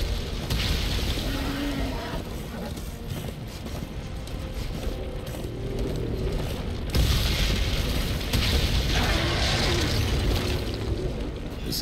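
Deep booming blasts of cannon fire in the video game Darksiders 2 thud repeatedly over a constant rumbling background, loud and close.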